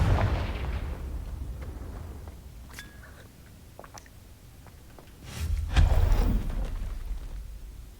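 A booming fire-spell blast, Confringo, from the Hogwarts Legacy video game. A rumbling low explosion opens the passage, fainter crackles and pops follow, and then a second heavy burst comes near the end.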